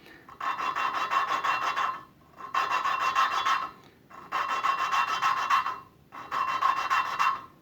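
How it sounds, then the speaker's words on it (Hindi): Rhythmic rasping grind of an engine valve being lapped with grinding paste, in four strokes of about two seconds each, separated by short pauses, close and steady with no voices. "पेस्ट लगाने के बाद आप इसे ग्राइंड कर सकते हैं इस तरह से।"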